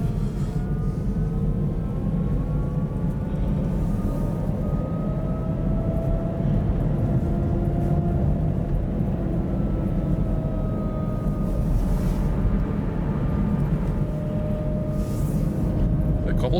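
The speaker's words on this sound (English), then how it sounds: "that's definitely the motor, because if you press the brake and it goes into regen, you hear the noise, the pitch, the noise pitch lowers" Electric motor whine from a Kia e-Niro EV regenerating under braking in -35°C cold: thin tonal notes slowly sliding in pitch above a steady, loud low rumble throughout.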